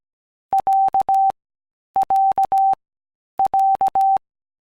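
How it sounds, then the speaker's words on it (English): Morse code for the letter A with diaeresis, sent as pure electronic beeps in a short-long-short-long pattern that is repeated three times with even gaps between. "showing different accents of Morse code letters"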